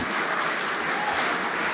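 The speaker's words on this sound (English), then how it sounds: "a big round of applause for Outlaws" Dense, steady audience applause at a programming contest closing ceremony as bronze medal winners are called on stage, continuous clapping throughout.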